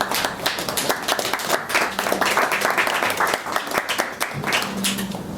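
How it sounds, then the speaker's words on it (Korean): A concert audience claps to welcome a guest to a house concert held in a traditional hanok venue, with dense, continuous applause filling the room from start to end at a fairly loud, close level. "박수로 환영해 주십시오."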